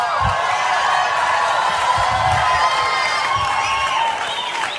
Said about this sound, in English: why do you think these people were cheering for you like that?